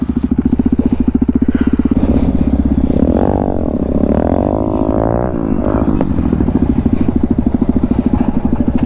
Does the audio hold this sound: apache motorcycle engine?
yes